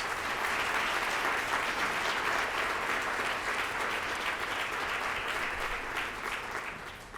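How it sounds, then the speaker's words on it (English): A forum audience applauds the panelists and host on public art, a full, even roar of many hands clapping that sustains for several seconds and fades slightly toward the end, with no talk over it. "Let's give them all a round of applause."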